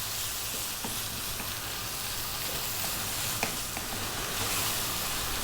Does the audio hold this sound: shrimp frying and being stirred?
yes